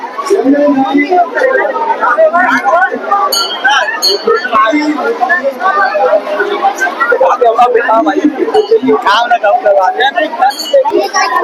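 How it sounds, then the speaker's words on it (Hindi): A dense crowd of devotees at a Bol Bam temple fair chattering continuously, a loud close babble of many voices with occasional clinks, adults and children mixed together. "हल्का भीड़ है भाई अंदर में यार"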